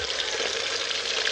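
Fish sauce sizzles in a hot pan for a kho quẹt dip, a steady close-up frying crackle with no talking.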